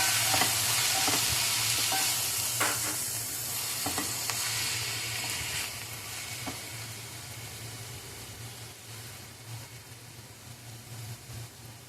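Food sizzles steadily in a hot pan during a home morning cooking routine, a continuous frying hiss with occasional clinks and scrapes of stirring, moderately close and without talk.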